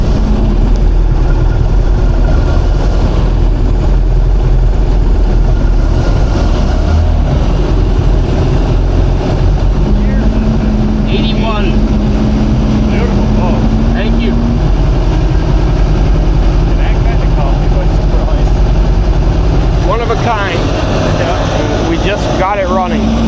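Classic speed boat with inline four-cylinder 3.7-liter engines built on Ford 460 internals, one with a faulty idle circuit, running with a loud steady low drone throughout, voices talking over it.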